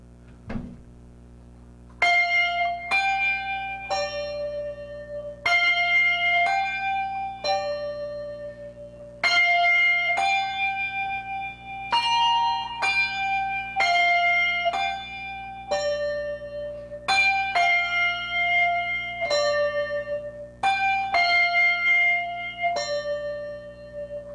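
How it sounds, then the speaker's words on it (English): A set of tuned hand bells rings out a melodic sequence of clear, bright strikes, each note sustaining and overlapping the next in a steady rhythm, played close and loud with no voices. "you've got to handle your bells with different hands at different times"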